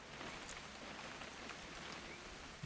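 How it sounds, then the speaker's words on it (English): Faint, steady rain patters in the video game What Remains of Edith Finch, a soft continuous hiss of drops with a few slightly louder taps scattered throughout. "It's gonna rain the whole weekend"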